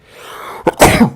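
A single sharp sneeze bursts out near the microphone after a short intake of breath, loud and abrupt.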